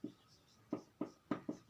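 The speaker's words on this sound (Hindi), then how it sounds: "यहां पे लिख देता हूं" A marker or chalk writes on a board in a few short, soft strokes, five faint scratchy taps spaced unevenly, close and quiet.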